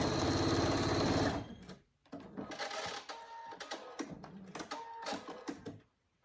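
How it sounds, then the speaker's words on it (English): Sewing machine stitching the open gap of a stuffed fabric heart, a fast steady whirring run for over a second, then a pause and several shorter bursts of stitching, close and fairly loud, with no talk. "Then you want to sew to the end of the gap."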